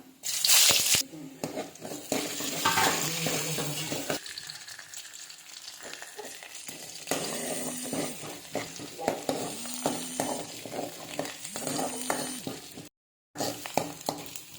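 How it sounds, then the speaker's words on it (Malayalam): Mustard seeds and shallots frying in hot coconut oil for a Kerala-style dhal curry, a steady loud sizzle with crackling pops and stirring clatter, briefly cutting out near the end. "വെളിച്ചം നന്നായി ചൂടായിട്ടുണ്ട് കടുക് ഇട്ട് കൊടുക്കാം ചുവന്നുള്ളി ഇട്ട് കൊടുക്കാം"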